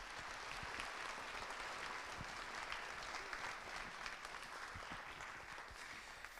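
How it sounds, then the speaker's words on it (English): A school band concert audience claps in a continuous wash of applause, steady and fairly distant, filling the hall without any voices standing out. "If we could give them all a round of applause."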